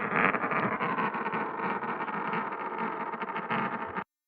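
A coin sound pitched down and run through heavy distortion turns into a dense, droning sci-fi spaceship engine rumble, steady and loud for about four seconds before cutting off abruptly.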